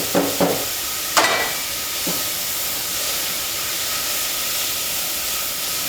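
Onions, mushrooms, chestnuts and sage fry in a pan with a steady close hiss, broken early by a few sharp clinks and stirring knocks before settling into an even sizzle.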